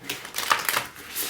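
Quick papery riffling of tarot cards being shuffled, a brief flurry of soft flicks and taps, fairly quiet and close.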